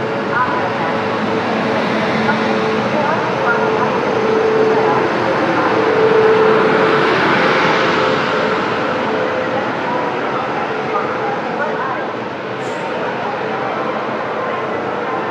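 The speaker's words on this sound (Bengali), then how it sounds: "এখন ঘড়িতে সময় হচ্ছে 8:08, আর আমাদের গোয়ালিয়র এক্সপ্রেস এই জাস্ট 5 নম্বর প্ল্যাটফর্মে ঢুকছে।" The Gwalior Express rolls slowly into platform 5 of a railway station in the morning, a sustained mid-level rumble with faint tonal squeals and a brief high screech near the end, and station ambience around it.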